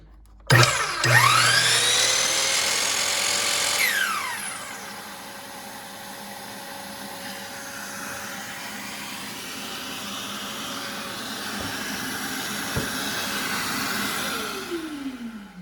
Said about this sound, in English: When it notices electricity being pulled from the saw, it turns on the vacuum, which I still have rigged up here.